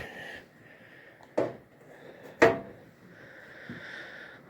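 An S-K Tools tool box with restored drawers: two distinct sliding-and-thunk drawer movements, one near 1.4 s and a louder one near 2.4 s, close by in a quiet room with faint background hum and no talk.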